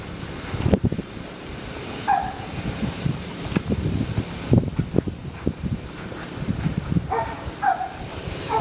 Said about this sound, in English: the wind is blowing, as you can see, so that may have affected it